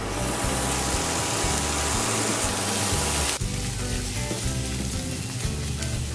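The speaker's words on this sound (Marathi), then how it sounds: "आता याचं आपण यात ॲड करतोय पनीर क्यूब्स." Paneer cubes sizzle and fry in a pan for paneer fried rice, a continuous loud crackling hiss that shifts in character partway through, with no talking.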